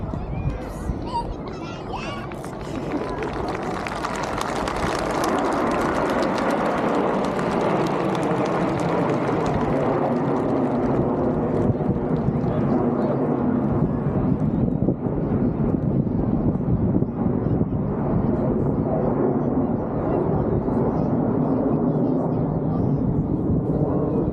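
Red Arrows jets roar overhead at the Midlands Air Festival at Ragley Hall, a continuous loud engine rumble that sweeps in and builds, mixed with wind buffeting the microphone and an announcer speaking over it.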